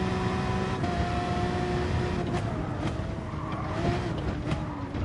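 Race car in a sim racing game lapping Brands Hatch GP at speed, steady loud engine drone with shifting tonal whine and brief tire or curb noises throughout, no voices.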